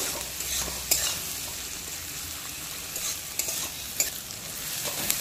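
Onion and green chilli frying in a pan as they brown, an even, continuous sizzle punctuated by several light scrapes and taps from a stirring spatula, with no one speaking.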